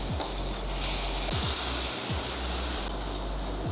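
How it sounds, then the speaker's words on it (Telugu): Tomatoes dropped into hot oil in a pan while cooking a roti pachadi with cumin and green chillies, giving a steady loud sizzle and hiss with brief stir noises, no talking. "సో ఇప్పుడు టమాటాలు వేస్తున్నా,"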